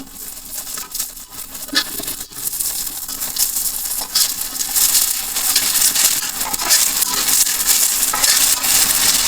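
Egg being lightly fried and stirred in a pan for an egg korma, a steady sizzling hiss with scraping stirs and light clinks, close and continuous, growing slightly louder and denser toward the end.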